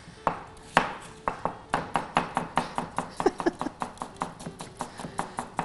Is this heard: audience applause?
no